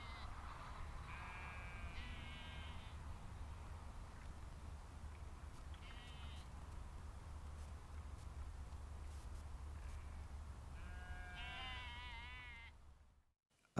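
Sheep bleat intermittently on a hill above Gare Loch, a few wavering calls scattered over a low steady rumble of wind or distant traffic, fairly faint and far off.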